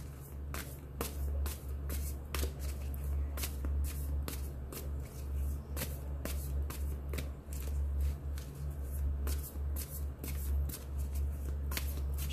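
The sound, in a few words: tarot cards being shuffled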